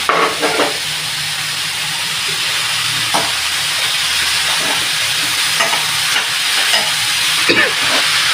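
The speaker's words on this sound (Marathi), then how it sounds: "सारखं हलवायचं, त्याला एक जीव होईपर्यंत सगळ्या भाज्या अशा मिक्स करायच्या आणि हलवायच्या, म्हणजे खाली लागणार नाही" Chopped vegetables for wheat veg momos sizzling and hissing in a hot pan while being stirred and tossed, a loud continuous frying hiss broken by intermittent scraping strokes of a spatula.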